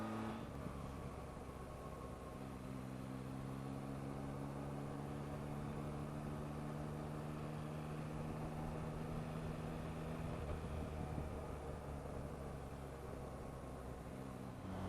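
A 2024 Yamaha MT-09 with the Y-AMT automated gearbox rides along with a steady engine drone, its tone stepping to a new pitch near the start and again toward the end as gears change smoothly, with no break in the power.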